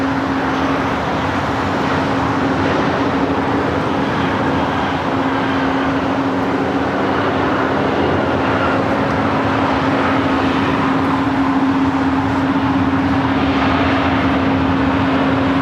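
An Emirates Airbus A380 arriving at Los Angeles airport in rough weather produces a loud, broadband jet roar with a steady whine, continuous and close for the whole stretch.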